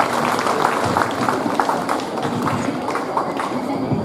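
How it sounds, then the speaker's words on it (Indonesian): Audience applause at an Indonesian literacy performance event, a dense, steady wash of clapping that holds at even loudness for the whole stretch without pausing. "Oke, tepuk tangan sekali lagi untuk Anissa."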